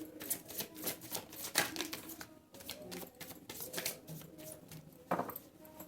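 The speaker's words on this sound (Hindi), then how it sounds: "This is my last shuffle." Tarot cards shuffled by hand in a series of quick riffling, flapping bursts with brief pauses between them, close and moderately loud, with no talking.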